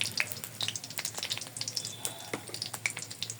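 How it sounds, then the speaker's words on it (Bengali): Panch phoron spices frying in a pan crackle and sizzle with quick small pops and light stirring scrapes, close up and fairly quiet. "একটু ভেজে নেবো এটা। দেখেন যে পাঁচফোড়নটা আমি একবারে বাদামি কালার করে নিচ্ছি।"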